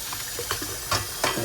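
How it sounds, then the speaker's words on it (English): A spoon is rinsed under a running tap, water splashing in short bursts with clinks and spatters over a few seconds. "So this spoon, I'm just gonna rinse it."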